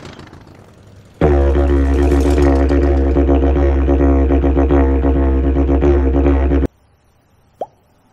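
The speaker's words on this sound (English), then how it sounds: "Yidaki sounds a bit like this." A didgeridoo drones loud and steady for several seconds with a rich, buzzing low tone and pulsing overtones, then stops abruptly; a short pop follows.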